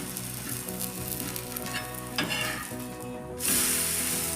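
Cucumber thalipeeth, a savoury Marathi flatbread with holes poked in it, frying in a pan, giving a steady close sizzle throughout with a louder hiss near the end.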